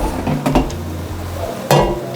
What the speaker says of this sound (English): I'm just going to bring out my air fryer basket.